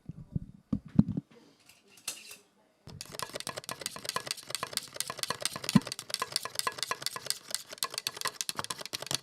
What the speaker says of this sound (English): Gonna stir this up.